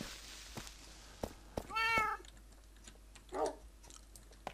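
A cat in the video game Minecraft gives one clear meow near the middle and a shorter, softer mew later, over a quiet game backdrop with scattered faint clicks and taps.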